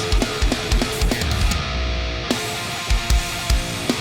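A modern metal drum pattern with quick double bass-drum kicks under a busy backing of cymbals and band sound, steady and moderately loud.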